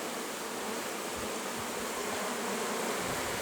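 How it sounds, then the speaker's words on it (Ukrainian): A steady, dense buzzing of many honey bees around a hive, constant and fairly close, with a faint outdoor hiss beneath it. "бджола хоч і наполохана, зате спокійна"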